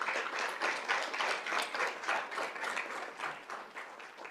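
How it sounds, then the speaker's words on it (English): Steady applause from a crowd at a school governing board meeting, a dense patter of many hands clapping at moderate volume for several seconds with no talking. "give them a big round of applause"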